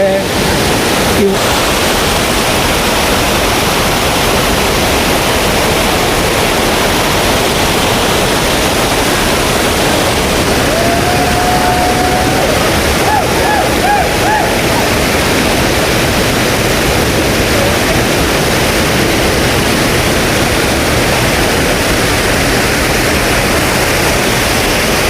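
Sarugudu waterfall in Anakapalli district pours in a steady, loud broadband roar that fills the whole stretch without a break.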